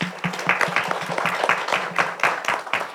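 Applause at a journalism festival panel, a close, steady stream of crisp handclaps from a small audience with a rhythmic, slightly uneven beat throughout.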